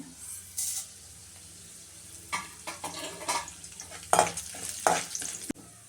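Chana dal and urad dal frying in a pan give off a soft, steady sizzle, broken by intermittent scraping stirs and a few clinks, close and moderately quiet.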